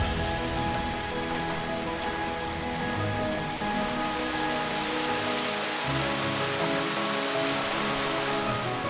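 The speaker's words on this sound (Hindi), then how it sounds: "पानी अब भी यहां बहुत बरसता है।" Heavy, steady monsoon-region rain in Cherrapunji pours down continuously, a dense hiss of drops striking surfaces, loud and unbroken throughout.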